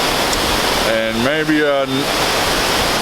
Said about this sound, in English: It's quite noisy with all the water slamming into those rocks